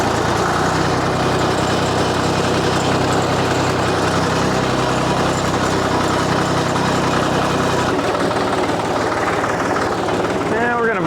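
A tractor engine idles steadily on a pig farm, a continuous low mechanical drone with a slight change near the end, while a person speaks over it.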